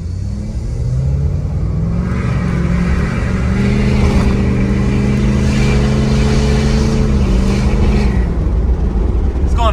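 A tuned Ford F-350 pickup with a 6.7 Powerstroke diesel accelerates hard from a standstill toward 60 mph uphill, its loud close engine drone climbing steadily in pitch for nearly ten seconds.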